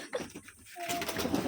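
A pigeon coos softly in a village setting, a short low call rising over quiet background with a brief whistle-like tone.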